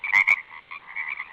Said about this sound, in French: c'est certainement le chant des grenouilles